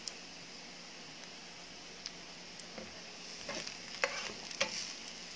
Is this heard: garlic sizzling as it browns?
yes